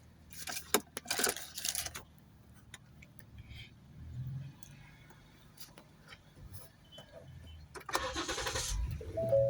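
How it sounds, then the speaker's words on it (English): A 2016–2017 Ford Explorer engine cranks in short bursts among clicks and ticks, then catches into a quiet idle with a rising whirr near the end. "I decided to start the car to kind of conserve battery"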